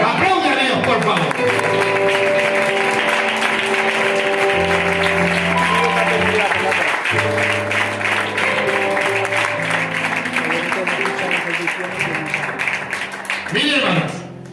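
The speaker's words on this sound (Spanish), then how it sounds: "Aplaude a Dios, por favor." A church congregation claps and cheers, a dense sustained wash of applause mixed with instrumental music and voices, loud and continuous before it fades near the end.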